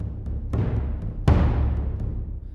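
Low percussion ensemble from the X3M Essentials sample library: two deep, booming hits roughly a second apart, each ringing out with a long rumbling tail, alone with no voices.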